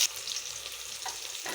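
Steady hiss and crackle of onions frying in hot oil, a continuous sizzle with occasional light pops and stirring.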